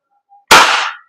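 WE Hi-Capa 5.1 Type K airsoft gas blowback pistol fires a single sharp, loud, close shot with a short hissing decay, preceded by a faint click.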